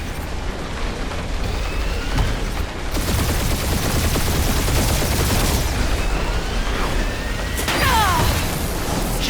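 Sustained gunfire barrage in the Guardians of the Galaxy action video game: a loud, dense, continuous wall of shots and blasts with streaking energy whines, unbroken throughout.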